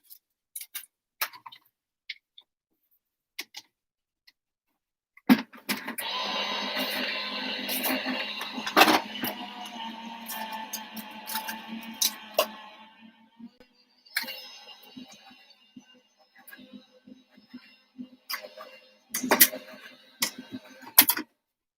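A die-cutting machine feeds card through its rollers with a sustained grinding crank lasting several seconds, broken by sharp clicks and knocks of handling before and after.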